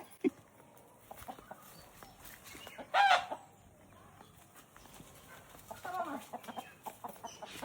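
Native free-range country chickens on a farm near Byndoor, Kundapura, with scattered clucks and one louder crow-like burst in the middle, plus a busier patch of calls near the end over faint rustling background.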